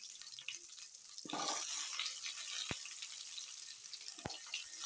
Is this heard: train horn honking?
no